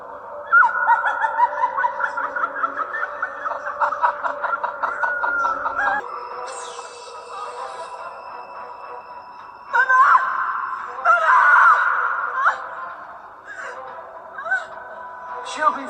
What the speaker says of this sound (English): Now, do you hear the birds?